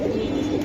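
A pigeon at a farm, a short, close, low cooing burst that fills the moment with steady warbling tone.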